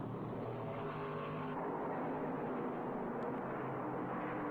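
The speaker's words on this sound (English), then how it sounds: "here we're watching Waltrip ducking under Donnie Allison on the back straightaway" NASCAR stock cars racing in the 1978 Winston 500, a loud, continuous roar of engines at full speed with no let-up and no voices.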